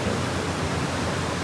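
A wide, fast-flowing river rushes close by, producing a dense, even wash of broadband water noise with no pauses or voices.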